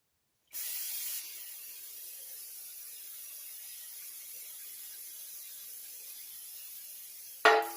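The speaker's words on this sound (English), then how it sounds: "Now we're going to spray our 9x13 cake pan." Cooking spray hisses from a can onto a 9x13 cake pan in one continuous spray lasting several seconds, starting with a brighter burst, ending with a small clack.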